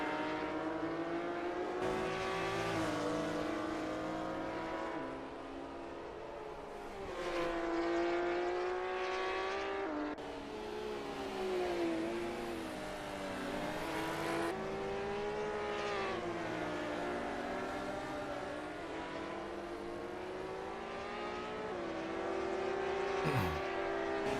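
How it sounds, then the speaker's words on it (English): Race cars in a sim racing game, led by a 1968 AC Legends Porsche in a GTR Cup race at Riverside, hold a loud continuous engine drone, the pitch rising and dropping through gear changes, with a brief tire squeal near the end. "Fighter pushing hard in the 68 AC Legends Porsche."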